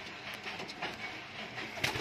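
Pigeons, including fancy high-flyer breeds, coo softly and continuously at close range against a busy, noisy background, with no talk.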